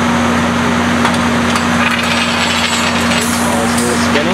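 Heavy machinery on a drilling rig spins and unscrews drill pipe, a loud constant mechanical drone with a steady hum and a few faint knocks, and no voices.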